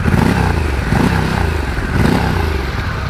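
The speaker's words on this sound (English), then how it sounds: "Now this motorcycle right here, this Pan Am, has a custom exhaust." Harley-Davidson Pan America motorcycle fitted with a custom exhaust revving close by, a loud continuous engine roar with two swells in intensity and some mechanical clatter.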